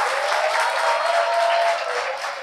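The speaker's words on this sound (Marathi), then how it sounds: "तिच्यासाठी आपण एकदा जोरात टाळ्या वाजूया." A classroom of students clapping together: brief, dense and even applause from a group nearby, holding steady throughout.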